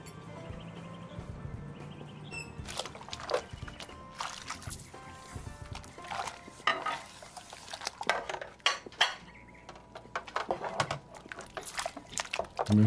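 In the restaurant game Kebab Chefs, a buggy dishwasher keeps washing without stopping, giving watery sloshing and bubbling with clinks of plates and cutlery, moderately loud and irregular.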